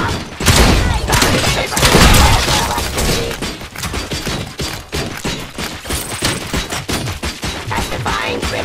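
Heavy gunfire rattles through the final boss fight against the Old Man in the video game Robocop Rogue City, with dense loud bursts and rapid shots repeating almost without pause alongside crashing impacts.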